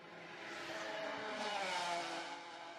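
Racing motorcycles ride in a pack during practice at the Macau Grand Prix, their engines making a faint, steady, high-pitched whine that swells and eases as they pass at a distance.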